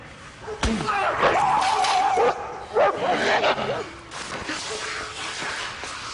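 Several dogs bark and yelp loudly and urgently after a sharp slam, with the barking fading into occasional yips and whimpers, in a dramatized scene about Saddam Hussein's family.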